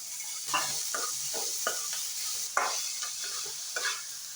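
Onion and capsicum sizzling in a pan with ginger, garlic and green chilli for jackfruit-seed chilli, a steady hiss broken by repeated stirring scrapes of a spoon against the pan.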